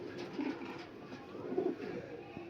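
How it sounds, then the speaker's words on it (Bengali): Malwai Mirabwala nasal pigeons cooing close by, a soft low cooing repeated twice over a quiet background. "এক পেয়ার মিরাপবালা জোড়া আমি দেখাচ্ছি"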